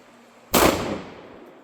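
A single sharp shotgun blast from an old shotgun aimed at a light bulb, one loud close report cutting in abruptly, then a short fading echo outdoors.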